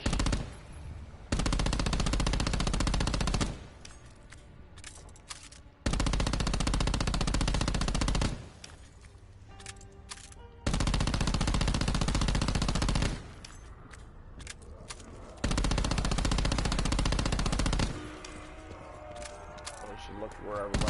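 Black Ops 4 Zombies gunfire comes in long, loud, rapid automatic bursts separated by quieter gaps, with a voice talking between and under the shooting.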